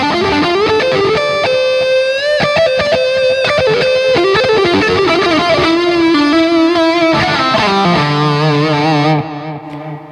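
A loud, heavily distorted electric guitar played through an Iridium amp pedal plays sustained chords and bends with a thick, saturated tone, ringing out at the end.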